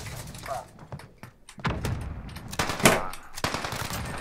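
Uzi submachine gun fire in Call of Duty Modern Warfare Search and Destroy, short sharp bursts and scattered shots mixed with thuds, heard under a player talking throughout.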